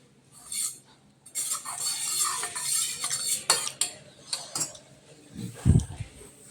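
A spoon stirs chili powder through an onion tomato chutney mixture in a metal pan, with steady scraping and clinking strokes, then a few dull knocks against the pan at the end.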